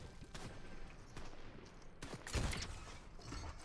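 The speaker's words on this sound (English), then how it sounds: "people shooting at me" Gunfire in the video game Fortnite, a burst of shots with sharp cracks and a heavier thump near the middle, moderately loud against steady game background noise.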